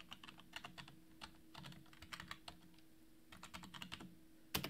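Rapid typing on a computer keyboard as a credit card number is entered, close clicky keystrokes in bursts over a low steady hum, ending with a sharper key press.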